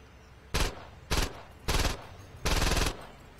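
Gunfire in Saints Row 2: four loud, separate bursts of rapid shots, the last burst longest, each one cutting off cleanly with quiet game ambience between them.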